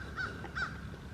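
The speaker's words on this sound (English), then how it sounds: "And that crow agrees with me." A crow caws outdoors twice, two harsh, evenly spaced calls at moderate distance over a low background rumble.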